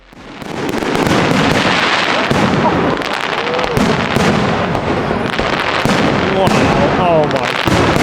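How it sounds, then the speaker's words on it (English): A fireworks display over Copenhagen in winter explodes continuously, with dense crackling bursts and booming bangs layered into a loud, sustained roar, and a crowd reacts underneath. "we're pretty sure that this was the best fireworks display we've ever seen"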